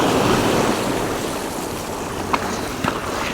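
Ocean waves washing against a jetty where striped bass are being fished, a continuous loud rushing surf with wind noise that eases slightly, then a couple of brief splashes near the end.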